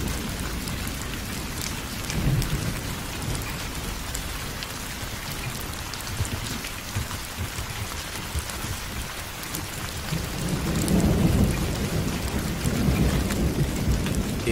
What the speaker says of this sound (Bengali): এই বৃষ্টি এখনই থামবে বলে তো মনে হচ্ছে না।